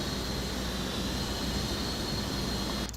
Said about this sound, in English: This plane is extremely loud.